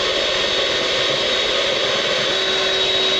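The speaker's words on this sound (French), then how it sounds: "Et c'est parti, on mixe. Vitesse maximale." An electric mixer whisks meringue for a Christmas log decoration at top speed, a steady, loud, high motor whine with a constant buzzing edge that barely changes. Nobody talks.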